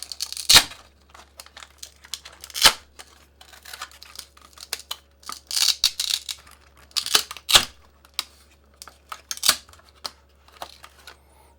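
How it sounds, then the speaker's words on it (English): Velcro is peeled away from the Lexan upper bodywork of a Tamiya BBX RC buggy, giving a series of sharp, close crackling rips and tearing bursts with short pauses between them, and no voice over them. "So you'll peel off the Velcro."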